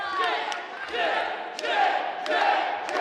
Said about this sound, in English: Crowd chanting for Jet Royal to make his way back up to his feet